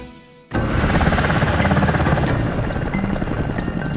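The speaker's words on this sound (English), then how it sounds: "They call it a helo extraction, an emergency evacuation method, a flexible form of taking soldiers out of harm's way." Military helicopter during an emergency helo extraction of soldiers, rotor chop starting abruptly and holding loud and close in a steady rhythmic thumping whir.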